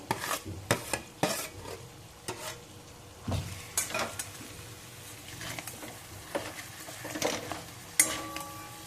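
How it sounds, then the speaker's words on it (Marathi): Spoon scraping and stirring mashed potato mixture with spices in a pan for Mumbai-style vada pav filling, irregular clatter and scrapes with a light sizzle underneath, close and fairly quiet. "त्याला मस्त दोन ते तीन मिनटं मस्त परतून घ्यायचं"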